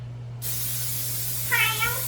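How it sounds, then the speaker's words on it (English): Pam cooking spray hisses briefly into a 9x13 baking dish, a short sharp burst close by, with a steady background hum and no talk over it. "Now I'm going to spray this 9x13 with a little bit of my Pam"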